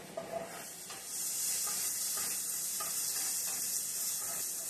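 O'Brien-style potatoes with jalapenos sauté in a pan, giving a steady, close sizzling hiss that swells after a brief quieter start, with faint stirring clicks underneath.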